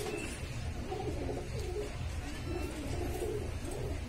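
Shahjahanpuri pigeons coo softly and repeatedly at close range, low rolling calls rising and falling in a steady rhythm over quiet background noise.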